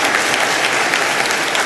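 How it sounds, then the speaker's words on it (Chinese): Applause for Ukrainian President Zelensky appearing by video at the World Economic Forum in Davos, a thick, continuous roar of many hands clapping in a large hall, loud and sustained. "光是荧幕现身，现场便掌声如雷。"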